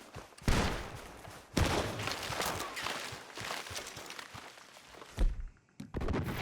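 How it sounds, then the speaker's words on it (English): Gunfire in the PC version of the video game Red Dead Redemption 2, several loud booming shots spaced irregularly, each with a heavy thump and echoing tail, amid scuffling movement. "The gunshots are coming from that barn!"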